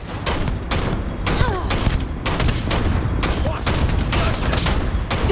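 Dense, loud gunfire fills a Starfield firefight, with rapid overlapping shots and bursts hammering close without letup, and occasional voices faintly underneath.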